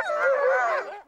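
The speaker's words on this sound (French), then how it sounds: "Une meute de chiens, des Groenlandais solides et résistants." A Greenland sled dog lets out one drawn-out, high whining howl at close range, rising and wavering for about a second before cutting off, with no talking.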